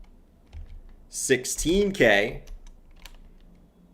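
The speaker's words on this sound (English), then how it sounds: "I'm really bad at typing this out." Computer keyboard typing in short clicky bursts, close and moderately loud, running under a man's speech that dominates the middle of the clip.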